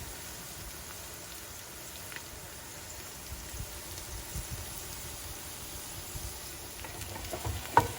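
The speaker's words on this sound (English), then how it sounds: "we're gonna let that garlic just start to brown just a little bit and release its flavors" Garlic frying in a pan as the base of a pasta sauce, giving a steady, soft crackling sizzle that runs evenly throughout with a few slightly sharper pops near the end.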